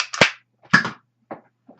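A B&M Gunbot Alien Blaster toy gun fires three or four sharp snapping shots in quick succession, each a short crack, the last ones fainter, with no talking.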